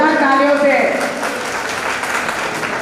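Loud applause from an audience at a seminar hall, a dense burst of clapping that trails off as a voice continues over it.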